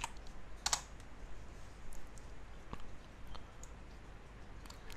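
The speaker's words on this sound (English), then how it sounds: "The first thing we want to do is run sudo apt-get update, type in my password" Typing a password into a computer keyboard on an Ubuntu Linux machine: a brief run of close, quiet key clicks, with one sharper burst, over a steady low background hum.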